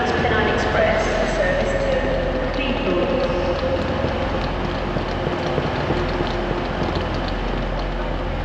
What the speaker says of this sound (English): we're gonna go ahead and board the train.